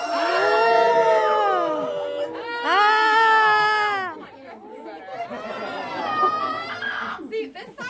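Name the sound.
tour group screaming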